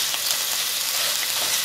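Pastrami cheeseburger patty with onion frying on a griddle, a steady close sizzle with a dense crackling hiss that stays even throughout, no voices.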